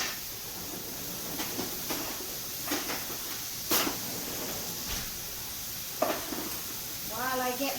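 Marinated portobello mushrooms fry in a pan on high heat, giving a soft continuous sizzle broken by occasional spoon clinks and scrapes, with a brief voice near the end.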